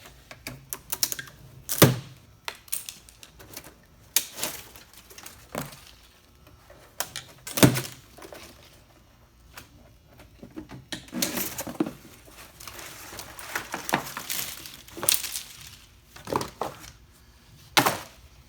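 Packaging around a 2017 Gen 2 Coyote engine being cut open, with irregular bursts of scraping, tearing and knocking, close by and quiet between the louder passages.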